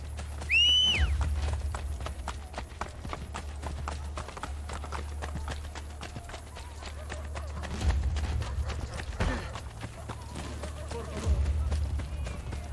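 A horse gallops in the video game Assassin's Creed Brotherhood, its hoofbeats clopping in a fast steady rhythm throughout, with a brief whinny near the start and soft background game sound.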